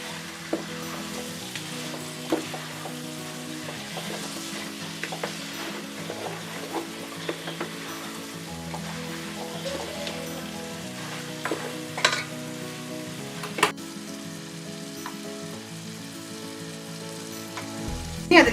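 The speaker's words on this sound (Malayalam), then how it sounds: "മുളക് പൊടിയുടെയൊക്കെ പച്ചമണം മാറുന്നിടം വരെ നമ്മളത് വഴറ്റി കൊടുത്തോണ്ട് ഇരിക്കണം." Chili powder masala for chicken curry sautés in a pan, a steady close sizzle broken by the scrape and clatter of stirring, with no voices.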